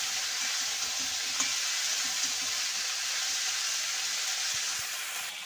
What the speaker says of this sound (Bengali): এদিকে আমার ব্রোকলি আর আলুটা কিন্তু ভাজা প্রায় হয়ে গেছে